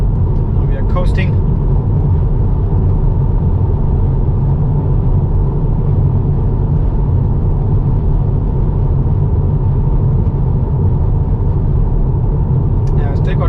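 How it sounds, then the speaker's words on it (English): Inside a moving car coasting on a road, a steady broadband rumble of road and tire noise holds at a constant level throughout, close and continuous, with brief faint sounds near the start and end. "Now we are coasting."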